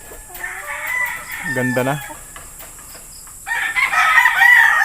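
A rooster crows once clearly amid clucking chickens on a gamefowl farm, followed by a louder burst of bird calls, with a brief voice speaking in between.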